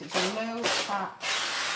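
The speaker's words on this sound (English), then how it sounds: "I'm going to apply some spray to the back of this." A person speaks briefly, then a steady hiss of an aerosol spray glue can follows, sprayed onto the back of a decorative moulding, close and continuous for a moment.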